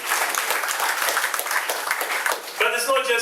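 Audience applause at a Vieux Fort South constituency conference, broad steady clapping from a large crowd that carries through, with a voice and tonal sound rising over it near the end.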